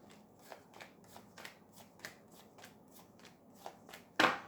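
Tarot deck being shuffled and dealt, a string of close crisp riffling bursts in a loose rhythm, ending with one sharp loud slap of cards, no talking.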